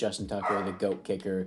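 Dogs bark and yip in the background during a Madden 22 Baltimore Ravens session, a few quick barks mixed under a man's close, continuous talk.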